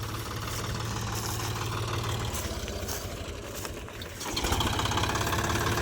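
Tractor engine, a Powertrac Euro 45 or Massey Ferguson, running at a steady low idle with a rhythmic chug, then revving slightly louder near the end.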